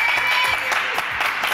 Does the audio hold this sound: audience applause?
yes